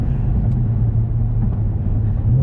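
An Infiniti Q50/Q60 on flex fuel tune launching hard with wheelspin, a loud, steady low engine roar heard from inside the car, filling the whole moment without talk.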